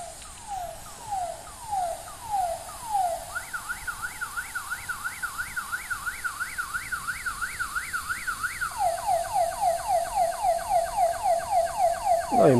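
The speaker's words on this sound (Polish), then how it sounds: "ja już tę syrenę wyłączę" An electronic siren inside a glass bell jar wails in a repeating rising-falling pattern, speeding into a fast warble and then slower sweeps as air is let back in, growing louder toward the end.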